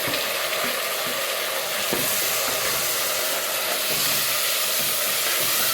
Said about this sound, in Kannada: ನೀಟಾಗಿ ಫ್ರೈ ಮಾಡ್ಕೊಬೇಕು